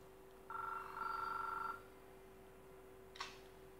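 A telephone rings once with a steady electronic warble lasting about a second, faint and alone, followed by a short click a moment later.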